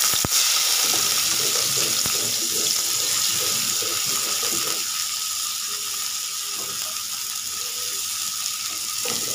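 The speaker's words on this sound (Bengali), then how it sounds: "এখন পেঁয়াজগুলো ভাজবো" Onions fry in a pan for fish bharta, a dense, steady hiss of oil under a rapid rattling clatter in the first half, continuing alone and slightly softer afterward.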